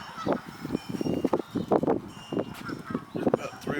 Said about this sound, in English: Here the gooses.